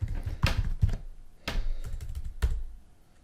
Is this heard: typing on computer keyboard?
yes